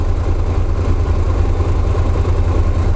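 A Honda NC750D Integra motorcycle engine runs steadily at idle, a low, even rumble with a faint mechanical clatter, close by and continuous throughout.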